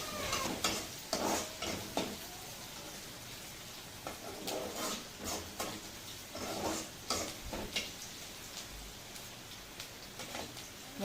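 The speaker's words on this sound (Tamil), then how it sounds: "வெங்காயம் நல்லா வதங்க ஆரம்பிக்குது." Onions sauté in a frying pan for a carrot and beans poriyal, a continuous close crackling sizzle broken by bursts of spatula stirring and scraping, with no talking.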